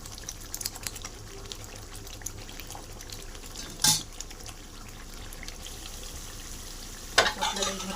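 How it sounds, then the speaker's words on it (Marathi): Spice masala dry-roasting in a pan, giving a soft steady sizzle with light scraping and stirring clicks, a louder clatter of a spoon against the pan near the middle and again toward the end. "आपल्याला असं भाजून घ्यायचं आहे मसाला चांगला."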